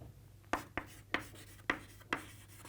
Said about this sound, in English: Let's write the definition and get ahead with it.